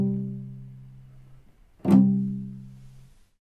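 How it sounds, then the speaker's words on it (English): Two plucked cello notes ring low and resonant, the second a fuller rolled pizzicato double-stop chord that decays slowly before silence. "The cello pizzicato in bar 14 is a lot like bar 3"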